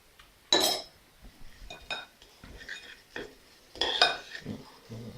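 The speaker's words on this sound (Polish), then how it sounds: "Mieszamy wszystko." A spoon clinks and scrapes against a bowl while oat cookie dough ingredients such as flour are mixed, producing sharp metallic taps and softer stirring scrapes in uneven bursts, close up.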